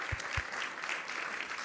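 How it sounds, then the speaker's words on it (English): Applause from a congregation after a devotional class at a temple gathering, a short burst of dense clapping with a couple of low thumps near the start. "So let's give him a big round of applause for an ecstatic class."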